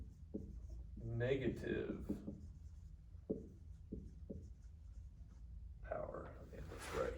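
Marker or chalk strokes on a classroom board while exponent rules are taught, a few short scratchy swipes and taps in between a teacher's spoken explanation.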